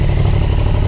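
Yamaha XSR 700 motorcycle engine running loud with no exhaust muffler, a steady, close, dense low rumble throughout the short burst.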